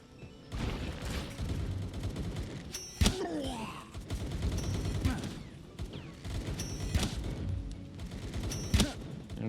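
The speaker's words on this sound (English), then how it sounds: "I don't know what he's firing at over there" Bursts of gunfire from a character in the video game Palworld, sharp repeated shots mixed with thuds and booms over a busy game background.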